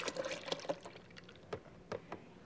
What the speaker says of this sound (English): First, you pour in some milk.